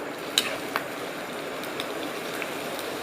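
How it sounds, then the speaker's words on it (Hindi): Sliced onions fry in reused hot oil, giving a soft continuous sizzle with a few sharp crackles and pops scattered over a few seconds, fairly quiet and close, with no speech. "और 2 से 3 मिनट के लिए प्याज को फ्राई कर लेंगे"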